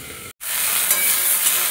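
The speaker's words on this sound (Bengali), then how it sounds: "ভেন্ডিগুলো ভাজা হয়ে গেছে," Okra (bhindi) frying in oil in a kadai: a dense, close hiss of sizzling that follows a very short gap and then holds steady for the rest of the moment.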